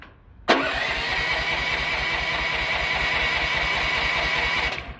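A small engine left sitting overnight catches after the choke is pulled and the throttle turned up, a sudden start followed by a loud, steady, fast-pulsing run heard close up for several seconds.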